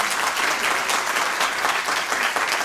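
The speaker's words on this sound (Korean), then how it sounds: "제가 개인적으로 박수 한번 쳐드리고 싶어요." An audience at a public policy forum in Gimpo, South Korea, claps together in a lively burst of applause, many hands close by, sustained and fairly loud from start to finish.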